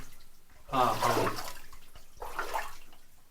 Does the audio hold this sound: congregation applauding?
no